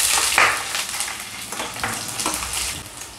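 Garlic and dried red chillies frying in hot oil in a pan: a continuous close, crackling sizzle with some stirring scrapes and no talking.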